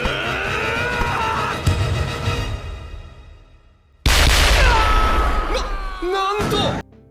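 A loud, shotgun-like blast marks a tackle in Captain Tsubasa, an anime football series, following a sustained roaring passage. Sharp, booming bursts cut in abruptly near the end, with a voice-like strained tone briefly layered in.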